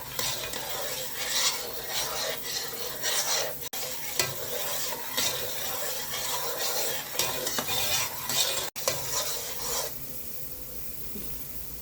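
Sugar syrup for Tirupati laddu stirred hard in a pan, a loud continuous rasping scrape with rhythmic strokes and bubbling sizzle, a couple of sharp clicks, then easing quieter at the end.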